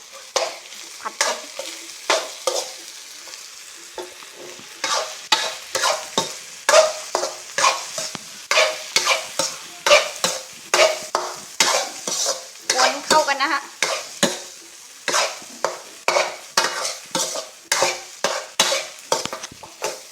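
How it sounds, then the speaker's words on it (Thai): A spatula stirs homemade fried rice in a hot pan, scraping in quick, regular strokes about twice a second over a light sizzle. The rhythmic scraping runs through the whole stretch with no talking. "วนกวนข้าวผัดบ้าน"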